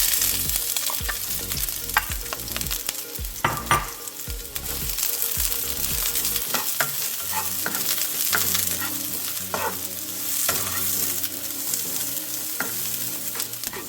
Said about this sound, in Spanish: vamos a poner aceite en un sartén. Y vamos a sofreír la cebolla